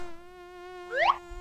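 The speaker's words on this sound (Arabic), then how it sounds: "هل سمعت يوما ذلك الطنين المزعج قرب أذنك؟ إنها بعوضة" A mosquito's thin, high whine sweeps close past the ear in one brief rising pass, loud against a steady tonal background with no talk.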